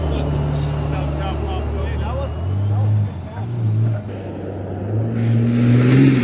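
A stock daily-driver diesel truck with a 12-valve engine on a trophy truck track, its engine droning and revving in rising and falling surges, close and loud, with people talking over it.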